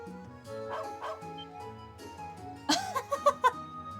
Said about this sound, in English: All he did was bark, Celine.